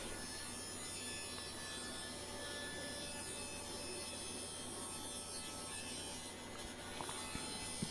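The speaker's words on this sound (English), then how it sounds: "And now I'm cutting down the top and bottom panel." A power saw cuts wood panels, the top and bottom pieces of a cabinet humidor, as a steady, loud broadband whir with hum that runs the whole time, with a few small knocks near the end.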